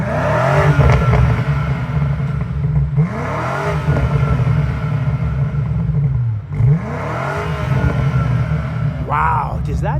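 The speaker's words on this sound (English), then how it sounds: "Let me just have Trish do a little rev time for us." A 2026 BMW M5 Touring engine revs hard in repeated loud pulses, each climbing and falling in pitch with a deep rumbling idle between them, heard up close with no talking over it.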